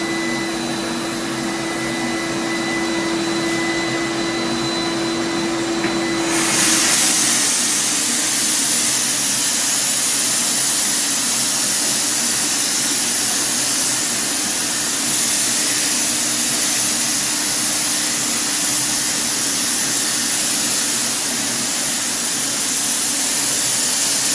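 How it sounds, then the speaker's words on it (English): A Titan Cap Spray 115 HVLP paint sprayer runs steadily and loudly, its broad hissing rush of atomized paint and turbine air continuing without a break, with no talking over it. "What this sprayer is doing is breaking down the paint material"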